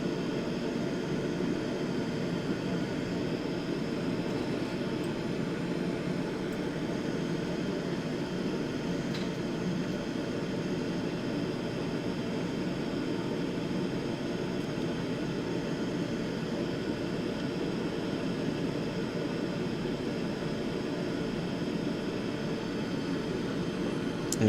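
Boeing 787-9 engines in Microsoft Flight Simulator 2024 hold at idle thrust, a steady, even jet hum and hiss that drones on without change for about twenty-five seconds, moderately loud and free of talk.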